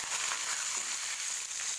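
Curry leaves dropped into hot oil already holding cumin, dried red chillies and mustard seeds, tempering for a hotel-style pappula chutney, give a steady, dense sizzle and hiss that stays loud and even throughout, with no talk.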